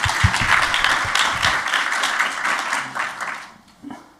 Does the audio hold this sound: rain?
no